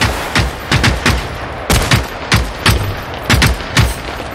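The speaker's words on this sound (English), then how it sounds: "Another firework going out." Fireworks in the video game Generation Zero crack and pop in irregular clusters, a rapid series of sharp, loud explosive blasts with brief gaps between them.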